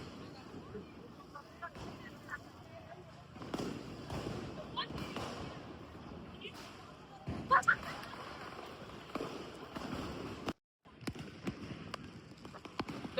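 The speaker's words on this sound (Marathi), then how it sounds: "सगळ्या फॅमिलीज एकदम फटाके फोडत आहेत." Firecrackers burst in an open park during a Diwali celebration at Shivaji Park in Dadar, with scattered sharp pops heard over a busy crowd and steady talking.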